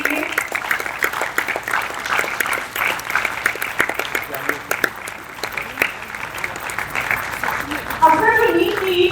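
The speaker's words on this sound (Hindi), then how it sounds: "जोरदार तालियां उनके लिए।" Loud applause from a theatre audience honouring the directors of a stage production, a dense steady wash of clapping sustained for about nine seconds, with a voice briefly rising over it near the end.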